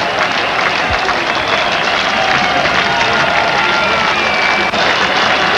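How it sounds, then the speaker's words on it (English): A large cricket crowd at a 1999 World Cup match between South Africa and Zimbabwe gives generous, sustained applause for Shaun Pollock after his dismissal. The dense, continuous clapping and crowd noise fills the whole stretch. "So applause for Pollock. Generous applause."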